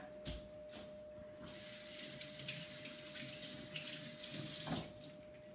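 Tap water running into a kitchen sink to rinse vegetables, a steady splashing rush that starts after a few handling knocks and continues, with a brief louder splash near the end.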